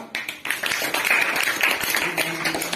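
Schoolchildren clapping in honour of their headmaster at a school ceremony, a burst of loud, close, scattered claps building into a brisk ragged round with a faint tone underneath.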